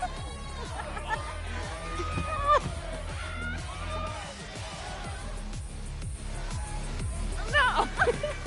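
A concert crowd in the game Life is Strange fills the space with cheering, chatter and occasional screams over a thumping musical bed, growing busier and louder toward the end.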